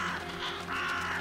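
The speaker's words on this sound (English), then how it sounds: "Crows, what do crows mean?" Crows caw in the video game The Vanishing of Ethan Carter, two harsh, rasping calls in quick succession over a steady, dense ambient wash, loud and close.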